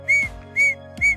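Three short, shrill blasts from a handmade whistle sound alone and close, evenly spaced with brief gaps between them.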